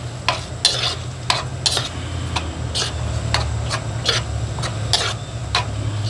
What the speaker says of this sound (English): Using it to also deglaze some stuff off the bottom there. Mix it in.